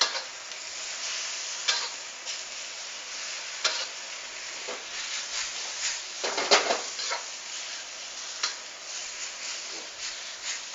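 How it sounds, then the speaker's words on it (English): Chinese broccoli stir-fried in a pan gives a steady close hiss and sizzle, broken by irregular scraping and tossing clatters from the stirring, with no talk. "Quickly stir fry or saute."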